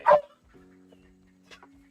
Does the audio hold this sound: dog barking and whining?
yes